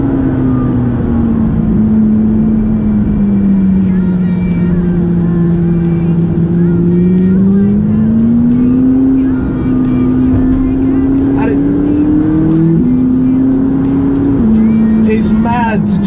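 A McLaren 570GT sports car drives twisty country roads in Gloucestershire, its engine droning steadily with pitch rising and falling through gear and throttle changes, loud and close from inside the cabin, with a few brief knocks and clicks.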